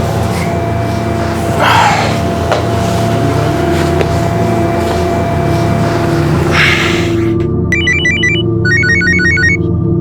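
Mobile phone ringtone for an incoming call in a Hindi crime TV drama: after a stretch of room tone with a couple of breathy sounds, a loud electronic ring begins, in repeating patterned bursts.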